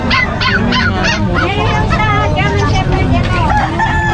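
A one-year-old fox-type Pomeranian at a busy street market in Bocaue yaps in a quick series of high barks and yips, mixed into loud crowd chatter and traffic noise.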